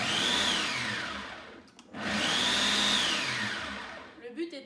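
A Cooking Chef food processor whirs in two loud high-pitched pulses, grinding almonds and chocolate into powder, with a short pause between bursts.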